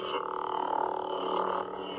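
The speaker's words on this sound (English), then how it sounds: "Get Vader's sound font" Darth Vader sound font playing on a Saberforms Neopixel lightsaber, a steady buzzing hum with layered tones that swells slightly midway, continuous and close for the whole stretch.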